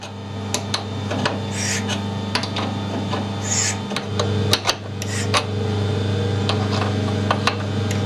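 Dry cutting of bronze on a lathe while machining a BSP-threaded coolant pipe adapter: a steady motor hum with a continuous scraping, rasping tool sound and scattered sharp ticks and clicks, close and even throughout, with no voices.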